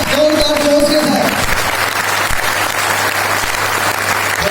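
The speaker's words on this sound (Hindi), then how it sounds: "फिर एक बार जोरदार तालियां, जबरदस्त जोरदार जोश के साथ।" Loud, energetic applause from a seminar audience in Jind, India: continuous dense clapping with a few voices rising over it at the start, staying strong to the end.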